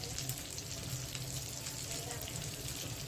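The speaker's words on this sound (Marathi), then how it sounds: "आता आपण ह्याच्यात फ्राय केलेली फिश सोडणार आहोत" Fried surmai fish pieces are added to a boiling fish curry, producing a quiet, continuous bubbling sizzle that holds steady throughout.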